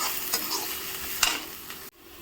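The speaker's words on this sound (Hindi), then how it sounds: "प्याज हल्की हल्की भुन गई हैं और थोड़ा सा हम और भूनेंगे।" Onions sizzling in a pan for a Diwali suran (elephant foot yam) curry, a bright steady fry broken by a few clinks and scrapes of stirring, cutting off abruptly near the end.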